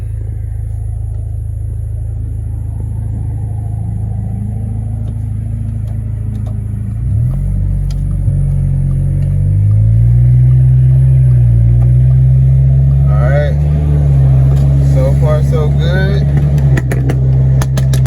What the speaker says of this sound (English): car sounds like it got torpedoes coming from it. Crazy exhaust